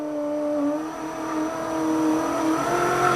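The power window motor of a Ferrari 308QV, with the engine off, whirs steadily as it lowers the window all the way down, a thin humming drone running alone throughout the clip.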